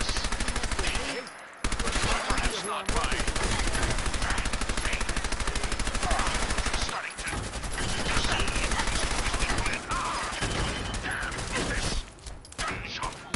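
Sustained automatic gunfire from a gun in Fallout 4, a dense rattling stream of shots that runs almost continuously, broken only by a few short pauses.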